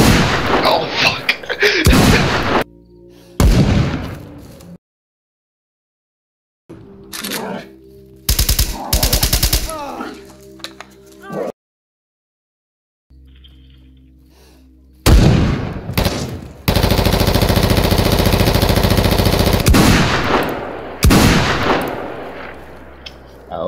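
Gunfire in a video game PvP arena match, with loud bursts of shots and sustained automatic fire coming in several stretches, separated by short quiet gaps.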